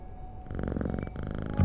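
A cat in a video game purrs in a close, rumbling pulsing burst, a short rhythmic purr of about a second with a thump at the end.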